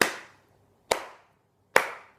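Three sharp, separate hand claps ring out at an even, slow pace, each a crisp loud snap with a short decay, and no voices.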